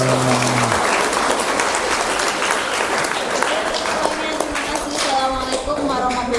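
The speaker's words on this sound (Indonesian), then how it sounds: "sekali lagi aplaus untuk Pak Ribut dan Mas" An audience applauds Pak Ribut at the close of a university class session on journalistic interviewing: dense, sustained clapping from a roomful of people fills the whole stretch, with a brief voice at the very start.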